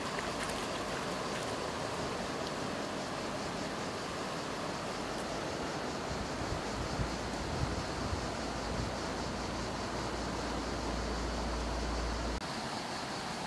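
A fast mountain river rushes along its bank in a dense, constant roar of broadband water noise, close and steady throughout with a little wind buffeting.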